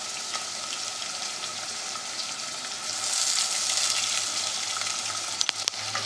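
Garlic goes into browned onions frying in oil in a pan, a loud, steady, close hiss of sizzling that swells partway through, with a few clinks near the end and no talking.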